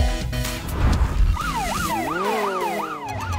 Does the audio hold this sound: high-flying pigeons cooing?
no